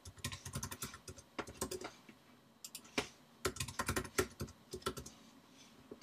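Rapid typing on a computer keyboard while setting up a Football Manager 2013 game, with irregular bursts of close, crisp key clicks and short pauses, heard alone.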